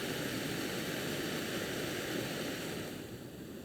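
An MSR camping stove burner roars at full blast, a steady close hiss and rush of gas flame that holds constant before easing slightly toward the end.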